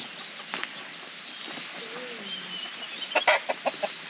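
Backyard chickens cluck softly at a distance in a quiet outdoor setting, ending in a few louder, closer clucks and a brief flutter.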